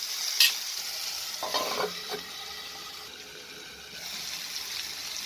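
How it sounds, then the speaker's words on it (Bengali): Potatoes stirred in a pan with spring onion stalks, giving a soft sizzle and light scraping that stays faint and steady throughout. "আমি এখন হালকা একটু নাড়াচাড়া করে আমি ঢাকা দিয়ে দেবো যাতে আলুটা তাড়াতাড়ি একটু সেদ্ধ হয়ে যায়"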